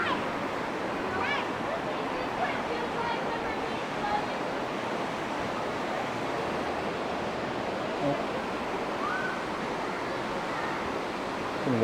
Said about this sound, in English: You can walk in that. It's like a little rushing water.